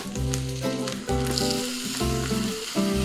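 Tomatoes added to browned onions in a pan sizzle loudly and steadily up close, with a continuous crackling hiss and no voices.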